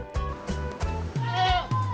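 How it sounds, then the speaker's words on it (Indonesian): An Etawa goat, white and freshly bathed, bleats several times in quick succession, loud and close, each call a short wavering cry with brief gaps between. "ini dia si kambing etawa"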